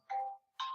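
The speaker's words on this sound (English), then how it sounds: "My phone's ringing again." A mobile phone rings indoors during a live lecture recording, two short bright electronic tone bursts separated by a brief gap, fairly quiet, with no talking over it.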